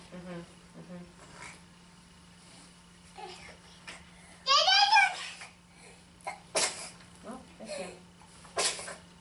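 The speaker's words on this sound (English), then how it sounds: "he's sneezing" A child's sharp sneeze bursts out mid-clip, surrounded by small vocal sounds, babbling and a few other short noises, with a steady low hum underneath.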